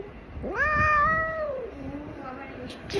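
A cat lets out one clear, drawn-out meow that rises and then slowly falls, close and fairly loud, with quieter background noise after it.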